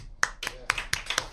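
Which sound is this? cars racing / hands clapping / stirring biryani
hands clapping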